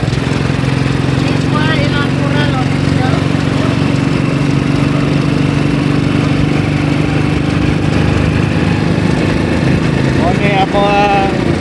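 A small motorcycle engine runs steadily and loud close by, with voices talking over it now and then.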